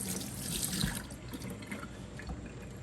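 Tap water runs over saved tomato seeds in a strainer, a steady close splashing and trickling that stays even throughout, with no talking.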